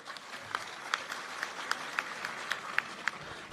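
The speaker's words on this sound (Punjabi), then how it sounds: "ਇਹਨਾਂ ਲਈ ਤਾੜੀਆਂ ਹੋ ਜਾਣ ਇੱਕ ਵਾਰੀ" Crowd applause for the media at a Punjab gathering where singers spoke: a steady patter of clapping from a fairly distant audience, with sharper individual claps standing out at regular intervals, and no talk over it.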